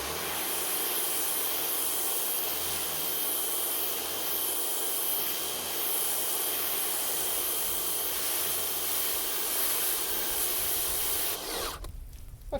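Pressure-washer style spray nozzle hosing down an abandoned 1985 Mercedes 300CD, a steady broadband water hiss running continuously and loud before cutting off near the end.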